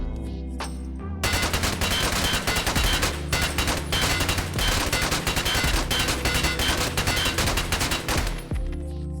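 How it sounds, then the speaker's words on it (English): Burst fire from a gun in the video game Escape from Tarkov, a loud sustained run of rapid shots in short bursts, alone and close. "if we instead burst fire, it will be so much more still"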